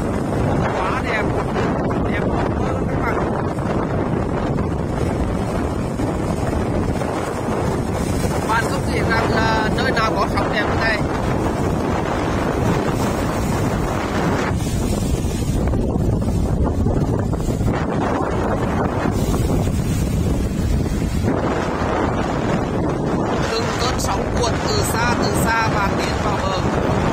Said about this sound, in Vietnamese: Theo con sóng này cho các bạn xem và tiến gần đấy các bạn, bùm và đã vào tới chỗ tôi đứng rồi ạ